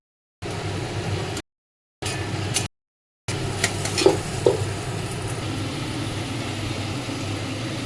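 Potatoes and capsicum sizzle in a pan of frying paneer while being stirred, a steady hiss broken by short gaps, with a couple of sharp scraping knocks of the spoon against the pan.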